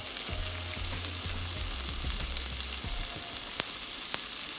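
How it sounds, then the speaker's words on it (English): Chopped onion sautéing in hot bacon fat in a pot, a steady close sizzle with a few scraping stirs and low thumps of a utensil against the pot. "I'm going to add my onion to the pot to saute in that delicious bacon fat"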